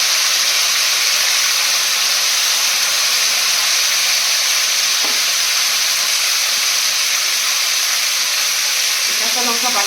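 Nigella seeds hit hot oil in a kadai for a banana flower dish, giving a loud, steady sizzling hiss that carries unbroken through the whole stretch.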